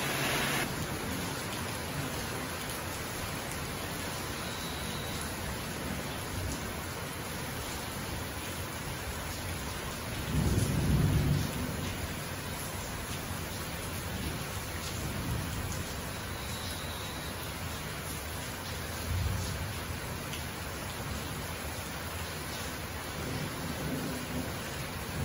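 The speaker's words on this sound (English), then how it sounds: "Like 80 degrees, tropical rainstorm." Steady tropical rain pours down on a warm Christmas day in Ghana, a dense even hiss with low thunder rumbling faintly twice in the distance.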